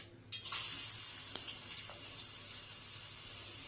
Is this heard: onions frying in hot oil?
yes